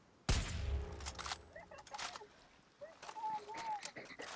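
Gunfire in the video game Far Cry 6: a sharp close shot opens, followed by a scattered run of quieter shots and distant pops amid outdoor game ambience.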